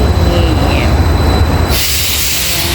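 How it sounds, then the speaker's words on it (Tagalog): A long train passes through a station with a loud, close rumble of wheels on rails, a faint squeal and hiss, and the sound thins slightly as the cars roll by. "Haba ng train."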